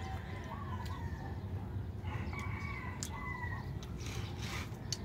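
A rooster crows a few times at a distance, faint over steady background hiss and low rumble.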